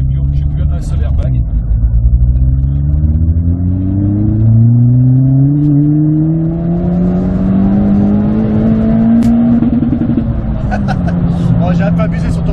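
A Stage 3 tuned Ford Fiesta ST competition car running on E85 ethanol accelerates hard, its loud engine note climbing steadily through the revs before stuttering against the rev limiter near the end, close and continuous.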